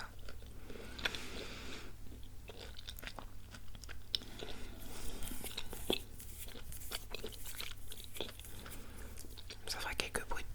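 Crunchy chocolate being bitten and chewed close to the microphone in an intimate ASMR setting, with repeated crisp crunches and mouth sounds under soft whispering.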